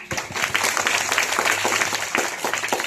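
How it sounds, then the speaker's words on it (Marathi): An audience at a school event applauds, a dense and sustained burst of clapping that sounds close and fairly loud from start to finish. "त्यांच्यासाठी आपण सर्वांनी जोरदार टाळ्या वाजवा"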